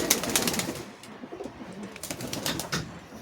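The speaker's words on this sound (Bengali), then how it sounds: "এই যে পায়রা দুটো" A pair of domestic pigeons coos in repeated soft burbles inside a loft, accompanied by brief rustling and faint wing movement, moderately close and unvoiced.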